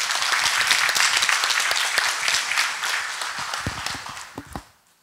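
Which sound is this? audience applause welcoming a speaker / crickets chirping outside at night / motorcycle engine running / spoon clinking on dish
audience applause welcoming a speaker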